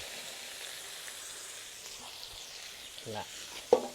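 Pork stir-fries in a pan over high heat for a bamboo-shoot and vegetable dish, giving a steady close sizzle with scraping stirs and a louder clatter near the end.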